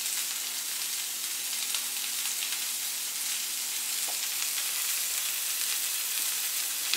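Bison stir fry with onions sizzling in a hot pan, a dense, continuous hiss with faint pops of splattering oil, steady and close without any talk.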